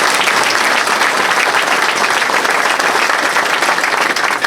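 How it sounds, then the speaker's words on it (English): Audience applause for Freeholder Amy Bellegarde at a Donald Norcross congressional campaign kickoff, a steady, loud wash of clapping from a crowd that holds evenly from start to finish without a break. "Let's give her a round of applause."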